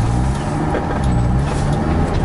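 Idling engine of a semi-injected car with an uneven, faltering run, a loud low rumble close by that holds steady with slight wavering and stumbles, no talking.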